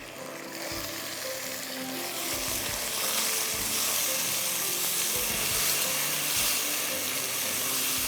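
Tomatoes hit a hot pan of green chillies for Bohri chicken pulao, giving a steady close sizzle and crackle with occasional stirring scrapes, and no talking.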